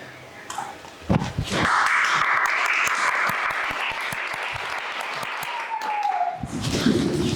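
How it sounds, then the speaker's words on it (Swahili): An audience bursts into loud, sustained applause at a school event, the clapping dense and continuous for several seconds before tapering off. "Basi makofi kwa mabingwa wetu Jay na Amina."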